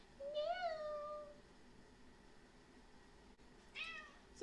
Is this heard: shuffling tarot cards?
no